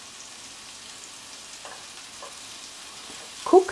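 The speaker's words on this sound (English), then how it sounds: "Now let's get our lemon wedges into the skillet." Lemon wedges sizzling in a hot skillet, a faint steady frying hiss with a few soft clicks and a louder spatter burst at the end.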